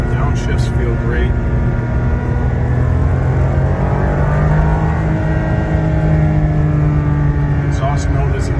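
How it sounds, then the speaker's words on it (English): A 1999 Ferrari 550 Maranello V12 exhaust drones loudly and steadily from up close, rising and falling slightly in pitch as it revs. "Exhaust note is exactly what it should be."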